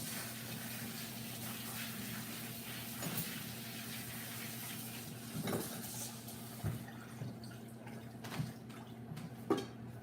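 Fresh sage leaves rinsed under a running kitchen tap, a steady close stream with a few sharper splashes as the leaves are moved under it, and no talking.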